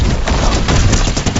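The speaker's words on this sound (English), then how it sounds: "how the turret shoots right into your opponent's face" A turret in the Fortnite Chapter 5 video game fires a rapid, loud close-range burst of gunshots, dense and continuous for a moment.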